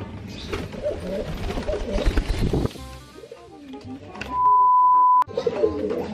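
Racing pigeons coo in low, rolling calls close by in a loft, with a brief steady beep partway through.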